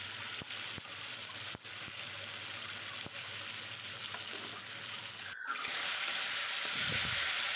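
Tomatoes salted and frying in a pan give off a steady hiss with occasional sharp scrapes as they are stirred, and the sizzle grows louder and busier near the end.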